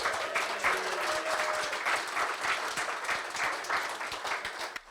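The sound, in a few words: applause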